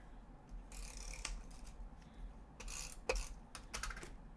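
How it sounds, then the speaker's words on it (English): A tape runner dispensing adhesive onto a card layer in bursts of crisp clicking and ratcheting, several short strokes close to the mic with brief pauses between, no talking. "tape runner"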